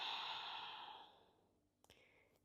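A single long, airy exhale tapers off over about a second and a half during a slow fascia stretching exercise, followed by a few faint soft clicks in a quiet room.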